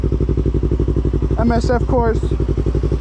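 A 2016 Yamaha R3 motorcycle engine idling close by, a steady loud pulsing throb throughout, while someone speaks briefly over it.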